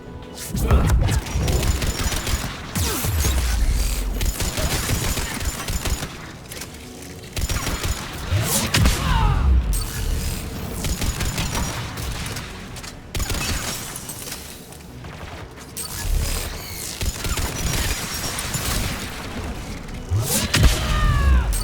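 Anti-aircraft guns firing in the Mass Effect 3 video game: loud, sustained bursts of booming gunfire with crashing impacts and mechanical clatter, rolling continuously through the whole stretch.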